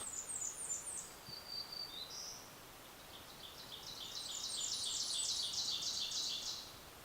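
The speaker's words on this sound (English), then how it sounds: "I'm hearing a lot of birds." Several birds chirp and trill in quick bursts, a high twittering chorus that swells toward the end over a soft outdoor hiss, in a forest on Mount Hale, White Mountains.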